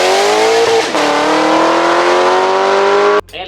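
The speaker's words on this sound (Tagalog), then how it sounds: "dahil po sa V8 ang makina nito, ay ibang-iba ang tunog kaysa doon sa mga naka-inline 4 or inline 6" A Lexus V8 luxury sports car accelerates hard, its engine wailing in a loud, steadily rising tone through a gear change before cutting off abruptly near the end.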